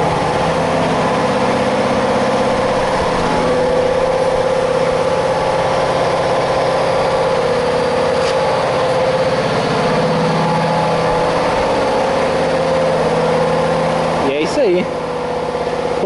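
A Chevrolet Opala Caravan's engine runs with a steady droning hum, close and fairly loud, holding an even note for the whole stretch, with a brief clunk and shift in tone near the end.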